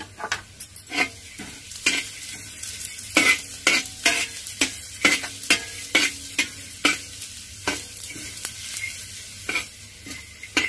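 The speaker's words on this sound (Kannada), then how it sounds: "ಈಗ ನಾವು ಮೊದಲಿಗೆ ಬೇಳೆನ ಹುರ್ಕೊಳ್ಳೋಣ" Lentils roasting in a spoonful of oil on a hot pan, giving a light sizzle under repeated sharp scrapes and taps of a spoon, about one or two a second, close and clear.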